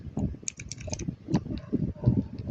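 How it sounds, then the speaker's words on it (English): Keyboard fidget toy clicked in rapid, uneven bursts of small plastic key taps, close to the ear, with people chatting and laughing over it. "I'm gonna start with the keyboard."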